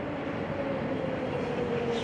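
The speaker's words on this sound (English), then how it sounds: "This train rolled into town a few minutes ago and stopped here in the yard." Freight train standing in a rail yard at Tehachapi, giving a steady low idling rumble with a faint tonal hum that holds even throughout, no voices.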